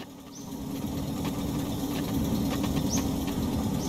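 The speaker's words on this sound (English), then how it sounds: "Something in my engine's getting very loud." Loud bus engine in The Long Drive, a steady low rumble with dense mid-band drone that swells slightly after the start and holds constant, with faint higher whines and clicks on top; no talking.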